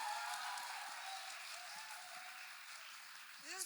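Applause from an audience at a film trailer launch event, steady and fairly faint, continuing throughout with a voice starting to speak at the very end.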